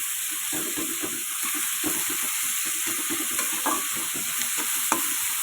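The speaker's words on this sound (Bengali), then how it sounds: "এবার আমি মশলাটা পুরো এর মধ্যে ভেজে নেবো" Capsicum with salt and spices fries in a pan for a pangas fish curry, giving a constant close sizzle broken by frequent scraping stirs and light clinks, with no talk.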